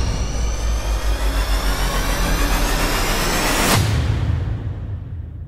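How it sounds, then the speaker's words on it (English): Noisy riser effects in trailer music sweep steadily upward over a pulsing low rumble, building in intensity before cutting off sharply and fading into a thinning tail. "I have risers that build as everything's speeding up."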